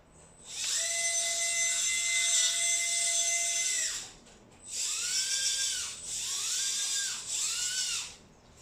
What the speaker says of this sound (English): We're going to start on low gear, and then once the vehicle enters the center, I will be shifting to high gear